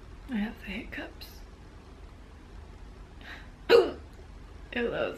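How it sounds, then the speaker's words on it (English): A woman's hiccups, several sharp, brief catches spaced a second or so apart, close to the mic and separated by quiet breaths. "I have the hiccups."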